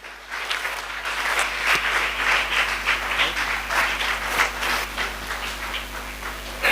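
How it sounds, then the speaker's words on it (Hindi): Audience at a speech and Q&A event applauding sponsors, a sustained wash of many hands clapping steadily throughout, fairly loud and dense with no talk over it. "तालियां होना चाहिए इनके लिए।"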